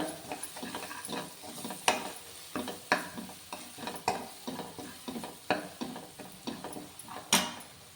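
Chili powder frying in a pan for street-style pav bhaji, with a spatula scraping and clacking against the metal in a steady irregular rhythm over a low, close sizzle.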